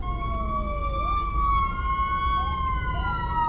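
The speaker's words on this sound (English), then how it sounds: "That is not an ambulance, that's actually a fire truck." A loud fire truck siren wails continuously, its pitch sweeping up and down as it passes close by, with traffic rumble underneath.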